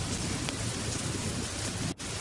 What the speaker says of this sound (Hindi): बारिश और तेज हो रही है।